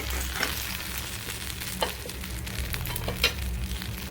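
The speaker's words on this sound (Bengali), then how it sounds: "কিছু সময় একটু ভেজে নেব" Turmeric-leaf-wrapped paturi fries in a pan with a constant, dense sizzle and occasional louder pops and crackles, without any talking.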